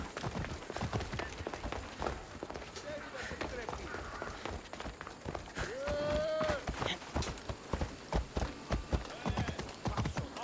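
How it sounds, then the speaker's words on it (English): Rapid rhythmic hoofbeats of a galloping horse in Assassin's Creed Odyssey, fairly faint and steady, with a brief whinny in the middle. "Come on, horse. You can run."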